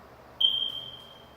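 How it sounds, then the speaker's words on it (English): A single high-pitched electronic smoke detector chirp from a household alarm sounds once, sharp at onset and then sustained as a steady tone that slowly fades, clear and close in an otherwise quiet room. "the smoke detector will beep in every 30 seconds"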